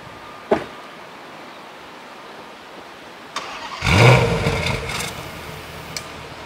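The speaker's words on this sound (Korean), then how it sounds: "벤틀리는 완전히 달라요. 시동 걸었을 때 으르릉 하면서 시동이 걸립니다" A Bentley Continental GT V8 fires up with a short starter whir and a growling burst that settles into a throaty idle, heard close and clear after a few faint clicks.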